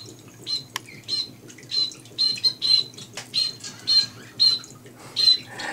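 Finches and canaries squawk repeatedly in a large indoor flight aviary, sharp bright calls coming in quick bursts about every half second over a low steady background hum.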